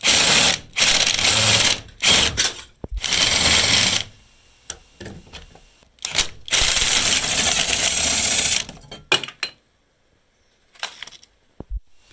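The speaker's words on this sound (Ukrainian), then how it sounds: "Я їх зірвав воротком, тепер відкручую." Ratchet wrench unscrewing the size-16 brake disc bolts on a Renault Scenic rear brake, with rapid clicking bursts separated by pauses and short metallic knocks, close and loud.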